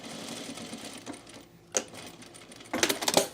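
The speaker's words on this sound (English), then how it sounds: "I'm going to top stitch the dart" A sewing machine top stitches a dart on cargo shorts in short, close bursts of rapid stitching, with a brief pause between runs and a faster burst at the end.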